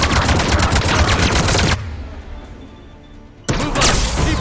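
A mounted gun in the sci-fi shooter game Mass Effect 3 fires long, loud rapid-fire bursts, stops for nearly two seconds of low background rumble, then opens up again close and dense.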